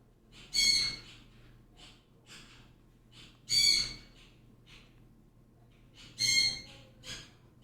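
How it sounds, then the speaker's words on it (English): Birds call outside, three loud, harsh squawking bursts spaced a few seconds apart, each followed by softer chirps, against an otherwise quiet background. "Oh, the birds are happy the kids are back. That's so cute. You hear them chirping."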